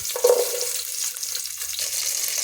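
Small shallots drop into hot oil with spluttered mustard seeds, fennel and fenugreek and fry with a soft, even sizzle after a brief initial crackle, close by and without speech.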